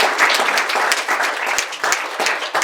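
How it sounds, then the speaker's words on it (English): A debate event audience applauds loudly and continuously, many close hands clapping in a thick, slightly uneven patter. "Once more, a bigger round of applause."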